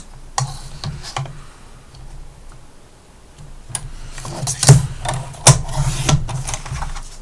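Chipboard is cut to size for a mini album, producing soft, sporadic ticks and crisp cutting snaps that grow louder and denser toward the end, close and otherwise quiet.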